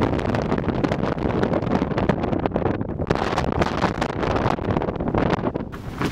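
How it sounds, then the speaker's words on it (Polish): Strong wind in Argentina buffets the microphone in a continuous, loud rumbling roar with gusty surges, and no voices are heard. "No, wiatr jest takim też nieodzownym elementem"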